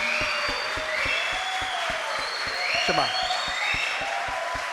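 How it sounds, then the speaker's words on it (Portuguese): Rhythmic clapping from a congregation at a family church camp honoring the camp workers, steady regular beats with cheering and voices over it. "Eu queria pedir que nós dessemos uma salva de palmas para esses irmãos queridos, que trabalharam duro"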